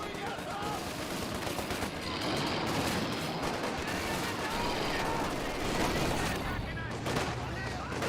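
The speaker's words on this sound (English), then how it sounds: "Grenadiers firing away" Grenadier rifle fire in the World War II strategy game Company of Heroes 2 crackles as a continuous, dense battle din of many overlapping shots, steady and moderately loud throughout.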